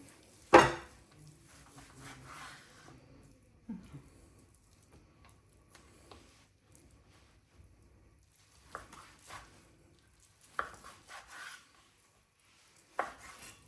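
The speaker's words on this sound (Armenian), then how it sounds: "Հավի կրծքամիսը չեմ թերթելանում, կտրատում եմ։" A knife cutting raw chicken breast into small cubes on a board, producing sparse, irregular close thuds and taps separated by quiet pauses.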